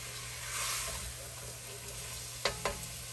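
A spoon stirs chicken and soy sauce in a pan over medium heat, with a faint steady sizzle, gentle scraping, and two distinct knocks of the utensil against the pan near the end.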